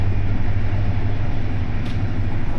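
IC Uznam night train from Świnoujście to Warsaw rolling along the tracks, a steady loud low rumble with continuous wheel and carriage noise and a brief higher hiss near the end, no voices.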